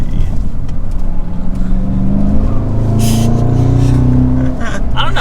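A 2022 Cadillac CT5-V Blackwing manual super sedan revs hard at full throttle, its engine tone climbing and falling through rising harmonic sweeps, loud and close, with a brief higher burst midway.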